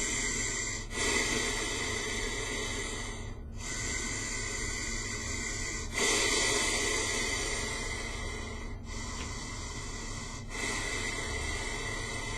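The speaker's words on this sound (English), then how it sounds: "Now, I'm going to breathe through my nose." Slow nasal breathing through a ResMed Mirage Liberty CPAP mask, a steady airy hiss with a few long inhale and exhale cycles marked by brief pauses, close and alone.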